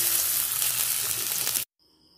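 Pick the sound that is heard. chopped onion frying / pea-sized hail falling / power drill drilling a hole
chopped onion frying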